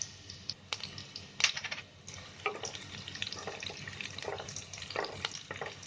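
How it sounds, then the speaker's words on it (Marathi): Garlic and chillies fry in hot oil in a pan for a chicken handi, a close, continuous crackling sizzle with sharp pops and spits over a low steady hiss, and no voices. "लसूण आणि मिरची चांगली फ्राय करायला द्यायची."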